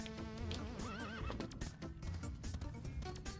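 A horse neighs and whinnies in the Lego Indiana Jones video game, a loud wavering call with hoof clip-clops and game music running underneath.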